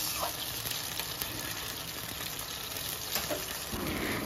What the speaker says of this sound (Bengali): জলের মধ্যে ফুট ধরে গেছে